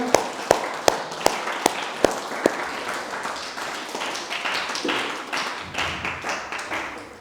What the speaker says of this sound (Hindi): क्लैपिंग में कमी नहीं होनी चाहिए बच्चों